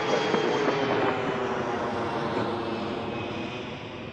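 An arriving airliner at Washington Reagan National Airport passes with a loud, broad jet roar that slowly fades over a few seconds.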